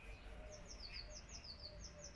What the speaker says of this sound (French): Écoutez l'oiseau.